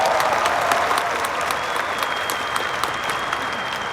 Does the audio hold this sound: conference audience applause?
yes